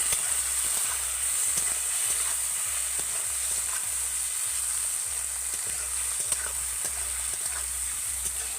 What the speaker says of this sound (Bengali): পেঁয়াজ আর টমেটোটাকে আমি ভালো করে ভেজে গলিয়ে নেব